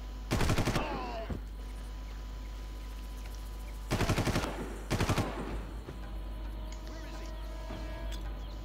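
Automatic gunfire in the Far Cry video game, three sharp rapid bursts a few seconds apart over a steady low hum, with faint clicks and in-game noises between them.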